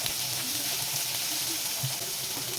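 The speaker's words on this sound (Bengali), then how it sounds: "পেঁয়াজ কুচিটাকে হালকা একটু ভেজে নিব।" Chopped onions frying lightly in oil for a bean mash dish, a dense, even sizzle that stays loud and close throughout with no pauses.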